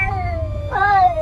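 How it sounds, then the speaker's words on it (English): A cat meows in two drawn-out, wavering cries, the second rising higher and louder, heard close over a low background rumble with no talk. "Do you think it's a real cat?"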